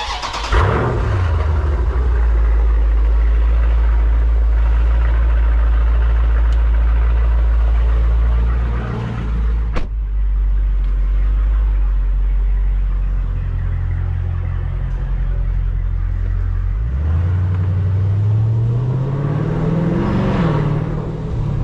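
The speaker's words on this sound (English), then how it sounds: "let's start the car up, let's take it for a drive" A 2020 Dodge Challenger Scat Pack Widebody runs loud and close, its deep engine rumble swelling as it revs and pulls away, dipping briefly near the middle before climbing again in acceleration.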